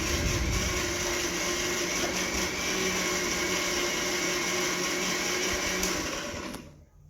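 A kitchen mixer grinder whirs loudly and steadily, grinding green chillies, coriander and garlic into a fine paste for vada batter, running continuously before cutting off near the end.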